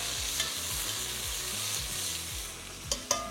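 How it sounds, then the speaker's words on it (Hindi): Onions frying in a pan for chicken biryani, a steady close sizzle with a low rhythmic churning underneath and a couple of sharp clicks near the end. "ये प्याज जब तक फ्राई हो रहा है"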